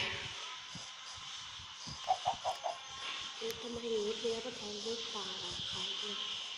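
Minecraft chickens clucking in a short burst of four quick clucks partway through, set against steady game background noise, with a voice talking softly afterward.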